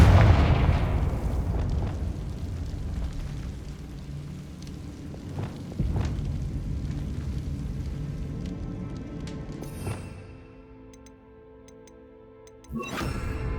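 In Hogwarts Legacy on PS5, a Confringo spell detonates with a heavy, rumbling explosion that slowly decays, followed by sharp cracks and a final loud burst near the end.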